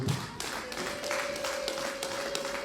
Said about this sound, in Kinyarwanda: bagakomera amashyi imiryango yombi